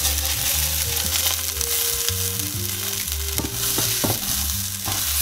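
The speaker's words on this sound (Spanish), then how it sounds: "Esto ya casi está hecho, le añadimos el arroz." Rice tipped into hot oil with frying garlic and stirred in a pan, a steady close sizzle with scraping stir strokes and occasional sharper clinks throughout.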